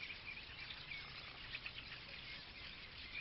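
Many starlings chatter and call at once in a dense, continuous chorus of chirps and whistles, fairly distant and soft.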